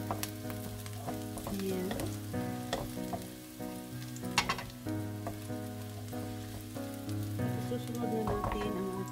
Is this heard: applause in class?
no